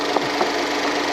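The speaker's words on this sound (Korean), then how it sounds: "그러면 엔진 소리 한번 들려드릴게요 보세요" A Hyundai Grandeur HG with a GDI engine idling, heard as a steady, loud mechanical hum with a faint ticking rhythm and a couple of light taps.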